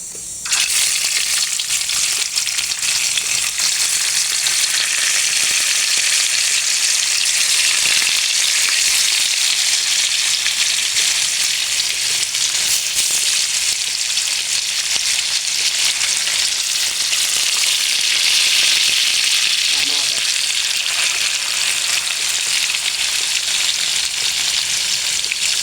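A second batch of tofu (tokwa) frying in hot oil, a loud, steady, dense sizzle that stays close and constant throughout without any talk.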